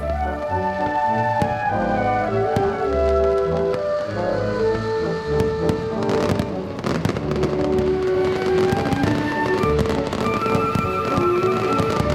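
A rapid, dense barrage of fireworks at the Fallas festival in Valencia, Spain, crackles and booms continuously, loud and close, with sharp bangs layered over a rumbling roar.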